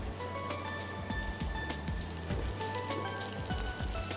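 Shallots fry in oil with ginger, garlic and curry leaves, giving a faint, steady crackle and sizzle with scattered pops and a few light stirring taps. No voices are heard.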